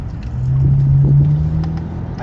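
An Infiniti Q50 engine drones steadily from inside the moving car, a low rumble with a faint rising tone.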